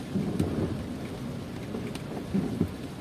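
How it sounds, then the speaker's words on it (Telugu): Steady rain drums over a low rumble of thunder, with a couple of brief louder thumps, heard from inside a car driving through rain on waterlogged roads in Kuwait. "ప్రస్తుతం మేమైతే ఈ వర్షంలోనే డ్రైవ్ చేసుకుంటూ వెళ్తున్నాము"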